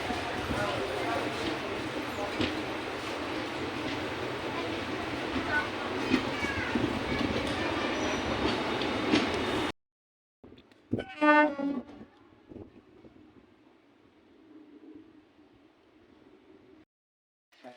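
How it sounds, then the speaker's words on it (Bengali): A train pulls out of Gourinath Dham station in Purulia district, India, with a loud, steady rumble that cuts off abruptly. People talk briefly over the quieter background that follows. "তো গৌরীনাথ ধাম স্টেশন থেকে ছেড়ে যাচ্ছে।"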